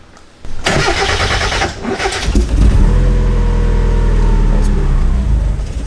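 A boosted Mazda Miata engine cranks, catches and settles into a loud, rough, close idle, with voices briefly audible at the start.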